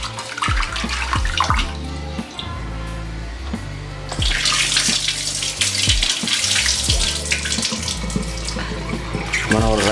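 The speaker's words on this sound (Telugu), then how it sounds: "2 times కడగాలి రైస్ని బాగా." Rice washed under a running kitchen tap, with steady gushing water and sloshing grains, the flow growing louder and fuller partway through; close and continuous, with no talk.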